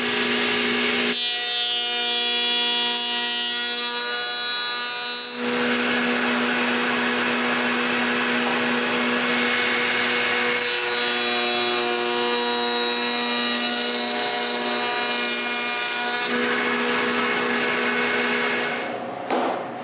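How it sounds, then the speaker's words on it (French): A power tool cuts a rabbet along a wooden piece for a raised sewing machine stand, a loud sustained whining drone that rises in pitch when running free between heavier cutting passes, with no talking. "je dois couper la feuillure sur ce morceau"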